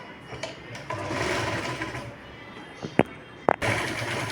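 A sewing machine stitches a katori blouse, whirring steadily at moderate volume, with a couple of sharp clicks near the end.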